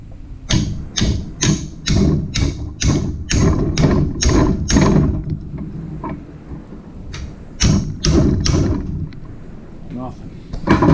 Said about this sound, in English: Maybe I can try from this side with a wrench